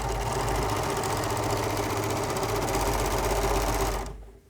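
A serger overlock machine stitches a small piece of fabric in a fast, even mechanical whir that stays close and steady for about four seconds, then winds down and stops.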